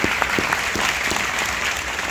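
An audience claps steadily for a couple of seconds at a motivational business talk, with dense, even applause filling the room and no voices rising above it.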